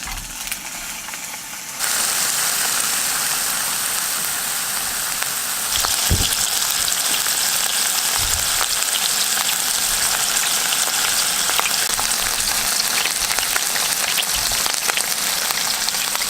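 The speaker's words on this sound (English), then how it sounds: "Do you hear that sizzle?" Loud, close, continuous sizzling of burgers frying on a hot camp grill, a dense crackling hiss that grows fuller after the first couple of seconds.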